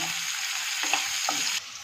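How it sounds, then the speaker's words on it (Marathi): Chopped onion sizzling gently in a pan over a low flame while upma is being made, a steady close hiss with a few soft stirring scrapes and no talk. "मंद गॅसवरती कांदा ट्रान्सपरंट करायचा आहे"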